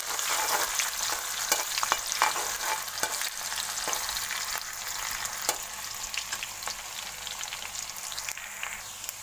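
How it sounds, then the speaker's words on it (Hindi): Finely chopped ginger and garlic pieces frying in sunflower oil for restaurant-style veg Hakka noodles, a steady close crackling sizzle with small pops and occasional stirring, no talking. "इसमें आपको पहले जिंजर गार्लिक पीसेस डालना है, बारीक चॉप किया हुआ। इसे थोड़ा सा ऐसे फ्राई कर लीजिए।"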